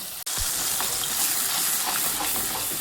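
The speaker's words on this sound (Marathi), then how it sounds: "कसा तड तड तड तड तड तड लागलाय तळून व्हायला मस्तपैकी हे फ्राय व्हायला लागलाय चांगलं" Chana masala spices frying in hot oil give a loud, dense, continuous sizzle and splutter with steady hiss and small pops, heard close and alone.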